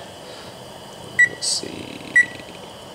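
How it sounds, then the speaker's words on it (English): An oven's control panel sounds two short, clear electronic beeps a second apart as it is switched on, with a person speaking briefly nearby. "I'll go ahead and turn the oven on now, actually."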